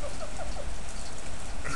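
Hail pours onto a deck in North Hollywood, a continuous, dense patter of small impacts forming a steady hiss, with a few faint higher calls over it.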